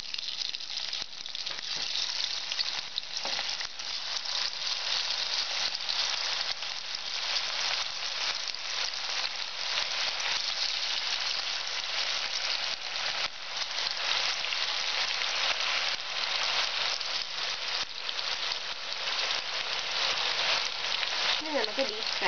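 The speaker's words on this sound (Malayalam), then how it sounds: "നമ്മൾ ചിക്കൻ 65-നുള്ള എണ്ണ ചൂടാക്കിയിട്ടുണ്ട്. ഇനി ഇതിലേക്ക് നമുക്ക് മാരിനേറ്റ് ചെയ്ത് വെച്ചിരിക്കുന്ന ചിക്കൻ പീസസ് ആഡ് ചെയ്യാം." Marinated chicken 65 pieces deep-frying in hot oil for a spicy Kerala-style dish, giving a steady, dense hiss and crackle that runs unbroken and fairly loud throughout, with no talking.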